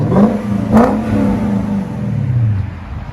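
A Lexus 4.6L V8 with its muffler deleted revs up sharply twice near the start, then settles into a loud, throaty idle with a low rumble close by.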